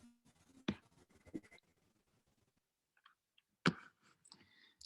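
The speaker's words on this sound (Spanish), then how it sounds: "Voy a poner el lápiz acá, lo voy a escribir." A pencil scratches across paper in a few short, close, quiet strokes, with a pause in the middle before a final burst of writing.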